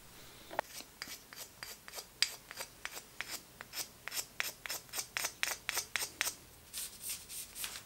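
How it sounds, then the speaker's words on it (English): A pencil or marker traces around a paper template onto bag material in a rapid series of short, faint scratching strokes, rhythmic and close, with brief pauses between bursts. "I just put it on the material and traced directly around it"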